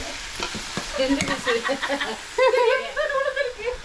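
Chicken with ginger garlic paste frying and being stirred in a pan: a close, continuous sizzle under scraping spoon strokes, with light laughter and voices chattering alongside.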